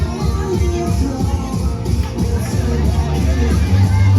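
A pro wrestling crowd in the Queen's Hotel, Dundee, makes a loud, continuous hubbub of cheering and chatter. The noise swells slightly toward the end, with a voice talking over it.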